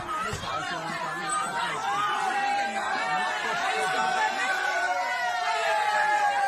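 A crowd of people drinking outside a bar in Ireland fills the air with dense, continuous chatter and scattered laughter, many voices overlapping close by at a steady, lively level.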